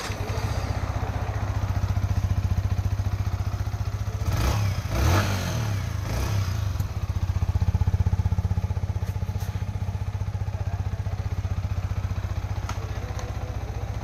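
A Yamaha MT 15 motorcycle engine idles steadily through its exhaust, a close, continuous low throb with brief clattering blips midway, and no talking.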